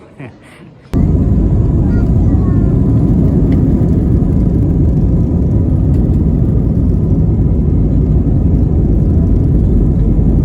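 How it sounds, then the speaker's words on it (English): A jet airliner's engines roar up for takeoff at Heathrow Airport, heard from inside the cabin: after a quiet second the sound jumps to a loud, steady, dense rumble and whine that holds throughout. "that's what you just saw me taking off from Heathrow Airport"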